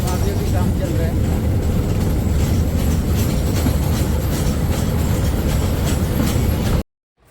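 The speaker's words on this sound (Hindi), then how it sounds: "toy train like we are moving to Shimla" A narrow gauge toy train rolls along its rails with dense rumbling and rhythmic clatter, loud and close for most of the stretch before cutting off abruptly near the end.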